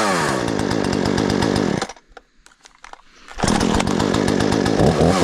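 A Husqvarna 240 chainsaw screams at high revs up close, drops to a choppy idle for about a second and a half, then revs back up to full throttle.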